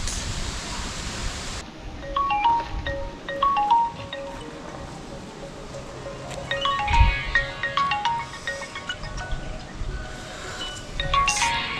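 A mobile phone rings with an incoming call, its repeated electronic ringtone chirps recurring in short bursts through a long stretch over steady hiss-like background noise.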